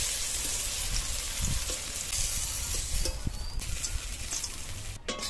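Eggplant frying in plenty of oil in a pan, a loud steady sizzle and crackle close by with occasional clinks and knocks of a utensil against the pan.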